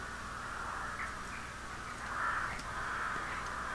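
Crows cawing in the video game Marble Nest, a dense, continuous chorus of harsh calls that swells slightly toward the end, fairly close, with no speech over it.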